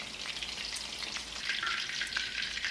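Pieces of pork belly frying in hot oil, a steady busy sizzle with scattered sharper pops and stirring clatter, moderately quiet and without speech.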